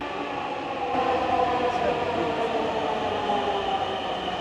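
A metro train rumbles steadily with a broad, continuous roar, loud and close, as it pulls into a station in Dhaka, Bangladesh.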